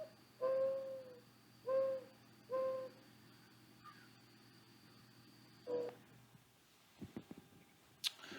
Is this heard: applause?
no